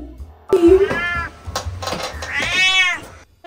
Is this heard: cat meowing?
yes